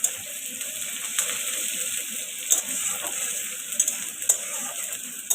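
Masala being stir-fried in a pan for a paneer dish, a steady close sizzle with scraping stirs and a few sharp clatters, no voices.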